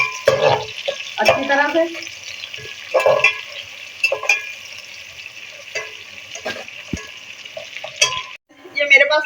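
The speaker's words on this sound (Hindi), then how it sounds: "ये हम शामिल करेंगे और इनको फ्राई कर लेते हैं" Chopped onion frying in a pot, a steady hiss of sizzling oil running throughout with occasional stirring scrapes and clinks, while someone talks over it.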